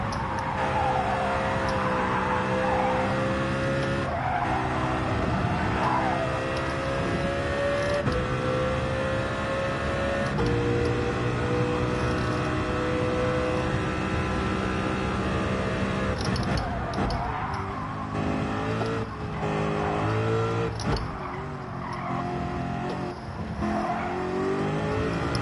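A race car engine in Gran Turismo 7 drones and revs continuously, rising and falling in pitch through gear changes, loud and up close, with occasional faint voices beneath.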